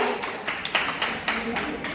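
An audience claps after a stage performance, a fairly thin spatter of hands with a few sharper individual claps standing out, moderately quiet and steady.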